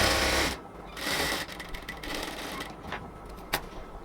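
A sewing machine runs close by, stitching a luxury cotton dress in short, steady bursts of whirring with brief pauses between runs.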